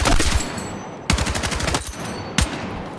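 Rapid automatic gunfire from a weapon in Battlefield 6, loud close bursts separated by two brief pauses, each burst a fast rattling string of shots.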